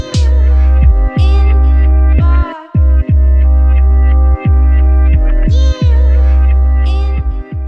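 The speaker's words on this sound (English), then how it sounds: "a power washer that you get at your house like this one" A home power washer runs loud and close with a steady droning hum and regular pulsing throbs, briefly cutting out near the middle before continuing.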